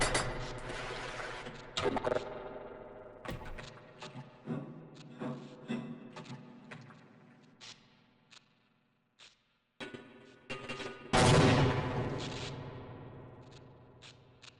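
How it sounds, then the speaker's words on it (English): Grenade explosions and gunfire in the video game Half-Life: Opposing Force, with sharp bangs and clattering hits spaced irregularly, a quiet gap near the middle, then a loud blast that rings out and fades. "More grenades."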